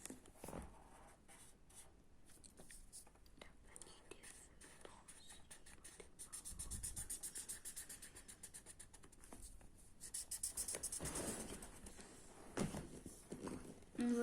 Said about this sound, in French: vous pouvez prendre des feutres et commencer à colorier vos